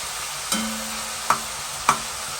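Onions sizzle in a pan of hot oil for rougail graton, a steady frying hiss broken by three sharp utensil knocks against the pan.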